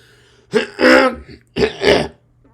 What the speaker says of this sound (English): I had a hiccup right when I was clearing my throat